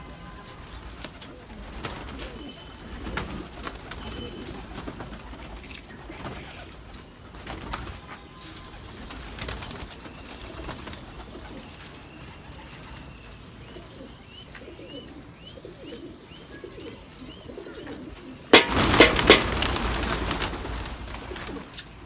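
Gola pigeons cooing in a loft, soft repeated low coos layered over a steady background, with a burst of wing flapping near the end; no clear talk.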